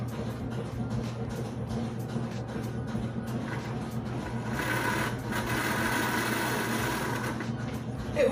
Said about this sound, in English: So that means we have a working motor.